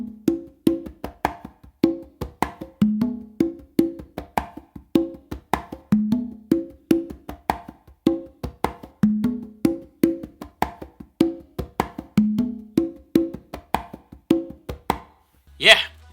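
A funk melody tumbao on congas, played as a steady, fast repeating groove of crisp slaps, open tones and muted finger strokes, close and loud throughout, ending with a brief sharp accent.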